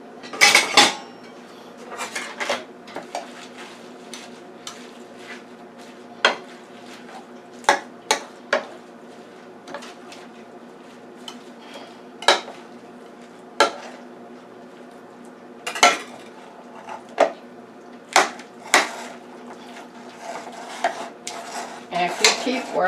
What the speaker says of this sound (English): So now I want to get a big spoon and fold that in.